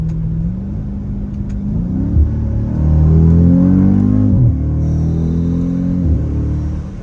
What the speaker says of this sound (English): This truck is so fast until you feel your eyeballs getting sucked back into your head